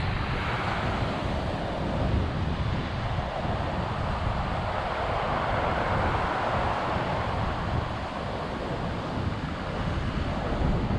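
Sea waves washing on the shore at Sheringham in North Norfolk, mixed with strong wind buffeting the microphone, a continuous loud broadband roar with no talking.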